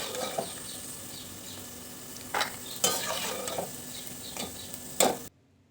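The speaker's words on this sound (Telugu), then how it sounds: "పల్లీలను వేయించుకుందాం." Peanuts roasting in a pan for a flattened-rice snack mix, heard as a steady low hiss with several short scraping stirs, each louder than the last, before the sound cuts off.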